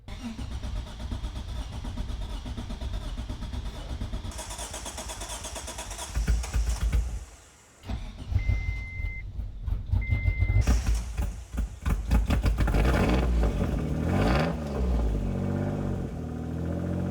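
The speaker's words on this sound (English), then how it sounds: "It's actually running. It sounds horrible. There's definitely a massive exhaust leak." An old Mitsubishi engine cranks, catches and runs roughly with a massive exhaust leak, giving a loud, ragged idle and revving close by, with a brief pause in the middle.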